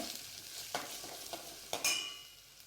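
Coriander paste and chopped onion sautéing in a pan, giving a soft continuous sizzle with a few sharp scraping clicks of a spoon as they are stirred, fairly quiet and close.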